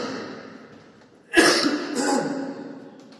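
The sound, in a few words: man coughing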